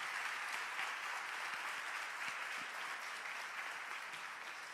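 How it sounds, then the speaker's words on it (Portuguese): A church congregation keeps up a steady round of applause throughout, a dense wash of many hands clapping at moderate distance with no talking. "dê um forte aplauso a Jesus por essa palavra"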